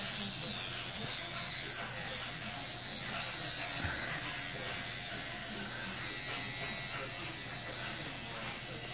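Electric toothbrush running steadily during a child's tooth brushing, a continuous buzzing hiss close by, with faint talk and a brief knock midway.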